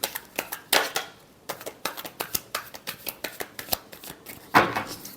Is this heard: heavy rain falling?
no